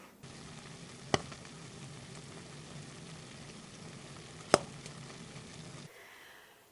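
Cranberries simmering in a pot of cranberry sauce give a soft, continuous bubbling hiss, with two sharp, distinct pops about three seconds apart.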